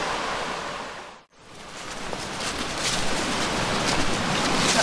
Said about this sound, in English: that's the mill race for the mill